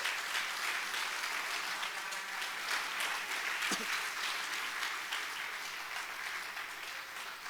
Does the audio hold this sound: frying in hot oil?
no